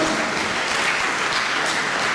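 Dense, even applause from an audience greeting musicians at a French regional performance, a continuous close crackle of many hands with no voices standing out.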